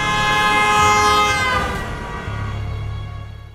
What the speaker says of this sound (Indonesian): Jaswinder sengaja membunyikan klakson yang sangat kencang untuk menyadarkan Sikandar